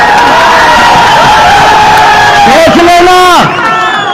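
A dense crowd at a political rally cheers and whoops loudly, with shouts and a speaker's raised voice rising above the roar before it eases off near the end.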